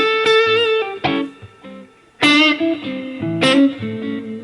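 Electric guitar plays a diminished scale in thirds in a jazz-blues style, notes leaping upward in intervals, with a few sharp strummed attacks and sustained tones, no voices.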